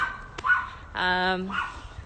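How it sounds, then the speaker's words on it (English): Neighborhood dog barking outdoors, a single harmonic bark burst of about half a second standing out over faint ambient noise, with brief softer sounds before and after. "Lots of dogs in the neighborhood too."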